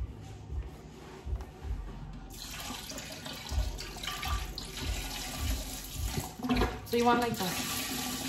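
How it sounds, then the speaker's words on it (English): Water runs from a kitchen tap to fill a container while cooking birria, a steady broadband rush that starts partway in and continues with some clatter, with a person talking over it. "While I'm filling up my water"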